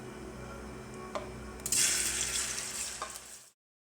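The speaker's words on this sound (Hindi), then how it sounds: "इसमें हम भिंडी फ्राई करेंगे" Fresh, washed okra hits hot oil with a sudden loud sizzle that swells and then slowly settles, and the sound cuts off abruptly into silence near the end.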